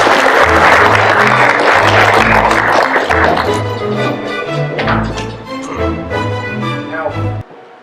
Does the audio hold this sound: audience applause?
yes